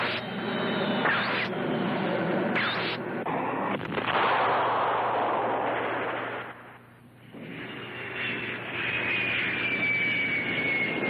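Jet fighter planes roar overhead in an attack, a loud continuous engine rush broken by sharp bursts of firing and blasts, with a brief lull before the roar swells again.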